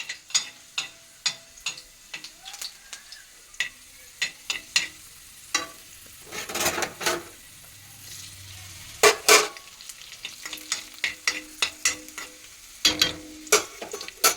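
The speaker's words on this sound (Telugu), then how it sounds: "ఎండుమిరపకాయలు అయితే వేగినాయి." Dry red chillies frying in a pan with tamarind, heard as scattered crackling pops and sharp clinks of a spoon stirring against the metal. Bursts come irregularly, with a louder sizzling flurry midway, and nobody speaks.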